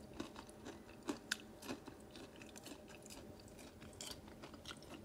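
Quiet, close crunching bites and chewing of homemade sweet potato fries, with a few sharper crisp crunches scattered over a soft background. No speech.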